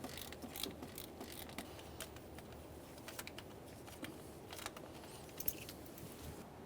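Faint, close ratcheting and small metallic clicks from an 8mm socket on an extension loosening an ignition control module mounting bolt on a 1994-1997 Honda Accord, with no voices.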